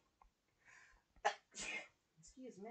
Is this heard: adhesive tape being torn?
no